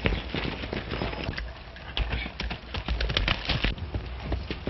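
Busy hoofbeats clatter across the whole stretch, with irregular thuds and cracks suggesting several horses galloping close by.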